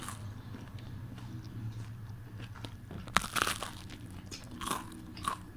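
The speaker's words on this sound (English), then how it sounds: "Ooh, that crunch." Popeyes fried pickles being bitten into, giving a couple of sharp, close crunches followed by softer crackly chewing over quiet room ambience.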